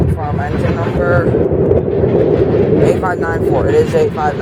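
Diesel locomotive 8594, a single engine, rumbling past at Fostoria with a steady low, heavy drone and wind buffeting the microphone, while a person talks over it.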